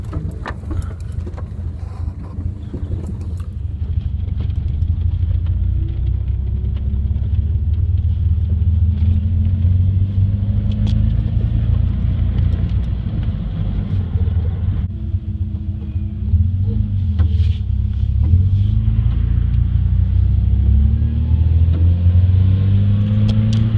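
Nissan S13 car pulling away and accelerating through the gears after a clutch swap, with a steady, loud low engine rumble and drone heard from inside the cabin, continuous throughout.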